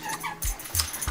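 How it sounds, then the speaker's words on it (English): A dog plays with a squeaky toy nearby, producing a few short high squeaks and soft whimpery yips in quick succession, fairly quiet and close. "that's my dog playing with his toy."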